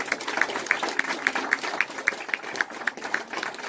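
Rhythmic applause from an audience at a house inauguration in the marshes of Sougéal, steady sharp claps repeating in a regular beat over a dense crowd background, moderately loud and continuous throughout.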